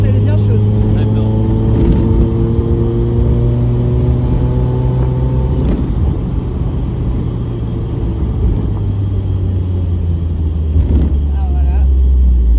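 A Mazda MX5 NA engine idles with a steady low rumble, and its pitch rises and falls slightly as it runs close by under occasional talk.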